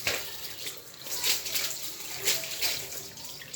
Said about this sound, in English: That one is poured away, and we wash it again